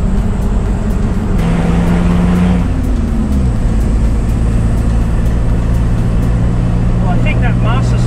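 A four-wheel drive diesel vehicle's engine drones steadily and loudly from inside the cab while driving after a clutch master cylinder repair, with a shifting engine tone partway through.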